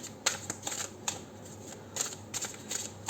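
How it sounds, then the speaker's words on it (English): Tarot cards being shuffled in several quick riffling bursts, crisp papery flutters separated by short pauses, close up and fairly quiet. "I'll first shuffle and then I'll pull out cards"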